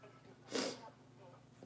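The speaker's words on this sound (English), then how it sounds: "I have to sneeze." A single person sneezes once, a sharp, fairly near burst that stands alone briefly in a quiet indoor room.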